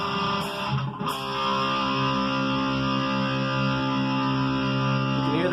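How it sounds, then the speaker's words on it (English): Xavier XV-500 electric guitar played through amplifier distortion, sustained harmonic-rich chords ringing continuously at steady loudness with a brief break near the start, alone without talk. "so here's what it sounds like on distortion."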